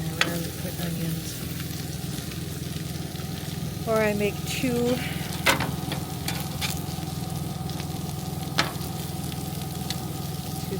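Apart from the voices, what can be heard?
pork tenderloin sizzling while frying in pan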